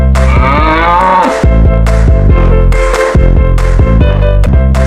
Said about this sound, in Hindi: Yak. Yak means yak।